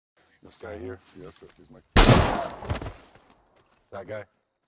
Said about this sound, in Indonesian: Pemimpin gerombolan tersebut menembak Bohai dan membuat semua ketakutan.